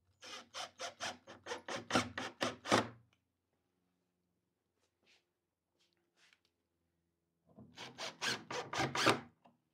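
Silicon bronze screws driven into wood on an 18th-century style chest of drawers, heard as two loud bursts of rapid rasping, creaking turns, one near the start and one near the end, with quiet between them.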